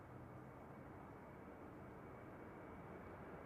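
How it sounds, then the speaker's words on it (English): A Ryanair Boeing 737-800 departing Manchester Airport makes a steady, broad jet engine roar that holds at an even level for a few seconds, heard faint and at a distance, with no talk. "Ryanair departing now, heading off to Dublin with flight 1900 EIEKR 738."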